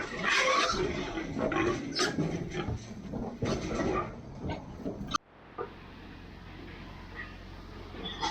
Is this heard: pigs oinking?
yes